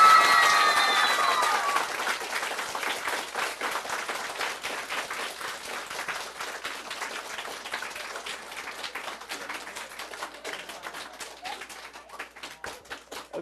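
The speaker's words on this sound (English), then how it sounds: "please signify with a round of applause" Applause from an audience at a school committee meeting in Brookline, strongest at the start and then thinning into scattered claps that fade toward the end.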